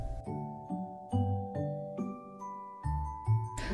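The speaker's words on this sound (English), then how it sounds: "the chimes of midnight struck" Clock chimes strike midnight in a steady series of about eight ringing bell tones, each sustained and overlapping the next, fairly loud and with no voices.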